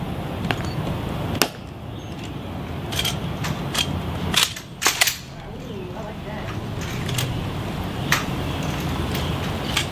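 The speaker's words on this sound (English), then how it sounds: "Obviously, right now he's doing the weapons inspection." Rifle weapons inspection during the changing of the guard at the Tomb of the Unknown Soldier: a few sharp, distinct clacks and slaps of hands on a rifle over steady outdoor background noise, with faint talk in the distance.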